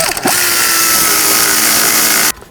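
Power tool tightening the nut on a front sway bar link of a 2010-16 Buick LaCrosse, one loud, close, continuous high whirring run of about two seconds that cuts off abruptly.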